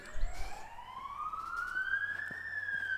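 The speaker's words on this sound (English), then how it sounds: "I hope that ambulance didn't get in Rob's mind a little bit." An ambulance siren wails past during a disc golf tournament, its tone rising steadily and then leveling as it passes at moderate distance, alone with no talk.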